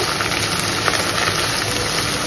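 Hilsa fish curry with Bombay chilli sautéing in a pan gives a dense, constant hiss close by, loud and even throughout with no voices over it.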